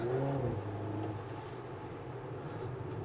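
A 2022 Hyundai Kona N driving on a wet track, its engine giving a steady droning tone that shifts pitch early, then settles into a constant road rumble.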